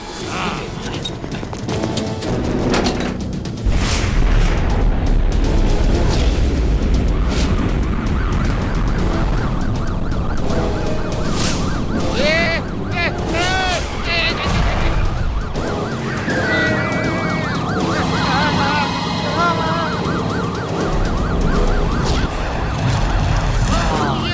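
Police vehicle sirens wail with rising and falling tones as they approach, amid loud engine and crash-like action noise, with voices at times in an animated scene.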